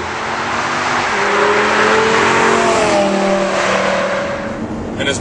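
A Lamborghini LP570 Superleggera accelerates hard, its engine note rising through rapid gear pulls in a loud, sustained howl, close and steady from start to finish with no talking.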